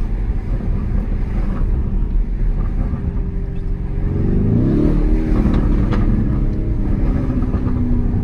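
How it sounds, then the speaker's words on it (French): A Lamborghini Urus engine drones steadily with rising revs partway through, a low rumbling stock exhaust note under some wind noise, no talking. "Échappement d'origine, bien évidemment."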